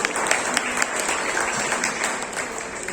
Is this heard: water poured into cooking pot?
no